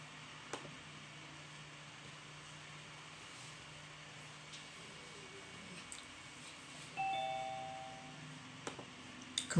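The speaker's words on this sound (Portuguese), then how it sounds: "Campainha tocando aqui no Zoom" A Zoom doorbell notification chime rings once, a short, clear electronic tone that stands out against a quiet room hum.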